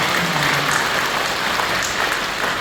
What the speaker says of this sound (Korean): 우리 믿음의 가정들 다 축복하여 박수.